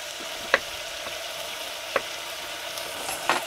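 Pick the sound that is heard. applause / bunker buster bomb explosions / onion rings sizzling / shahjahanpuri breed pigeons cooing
onion rings sizzling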